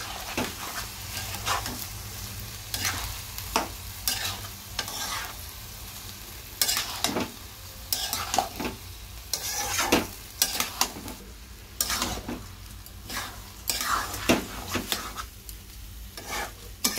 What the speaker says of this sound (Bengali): এইবার আমি মশলাটার সাথে চালটা ডালটা কষিয়ে নেব।